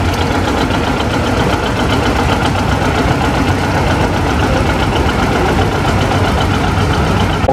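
At a steam and gas engine show, a John Deere 80 tractor engine runs at a steady, loud idle with a close, rhythmic knocking chug that never lets up.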